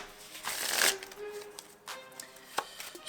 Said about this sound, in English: We'll start off by having the spectator shuffle up the deck.